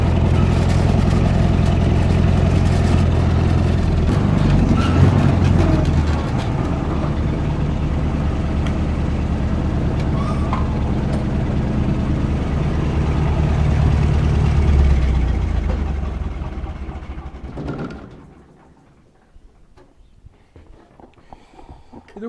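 A farm tractor engine runs loud with a heavy low drone, settling into a steady idle before cutting out near the end, leaving a quiet outdoor backdrop.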